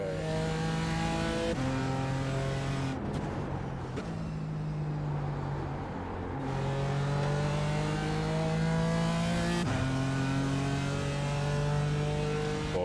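BMW M4 GT4 race car engine in iRacing at Laguna Seca, a loud near engine climbing in pitch through repeated gear shifts, with a brief lift and drop around mid-clip before revving up again.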